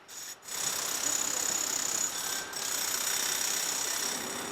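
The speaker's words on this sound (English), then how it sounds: "the drilling sound is coming from under the scaffolding, where crews are chipping away at the Canada Line station box" Workers drill and chip at a Canada Line subway station box under scaffolding during Broadway Subway construction, making a steady high-pitched grinding rattle that stops briefly twice and then resumes.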